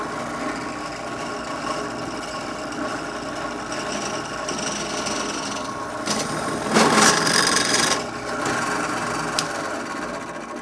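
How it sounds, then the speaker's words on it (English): A drill grinds steadily through the metal top of a fire extinguisher valve, a rough whirring rasp that surges louder for a moment near the end, with no voices. "I ended up having to use a bigger drill bit"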